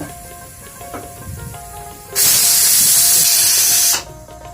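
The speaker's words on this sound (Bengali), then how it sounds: "আমি এখন প্রেশার কুকারের স্টিমটাকে কমিয়ে" A pressure cooker holding chicken being boiled vents steam in one loud, steady hiss lasting about two seconds, rising abruptly from quieter kitchen background and cutting off just as sharply.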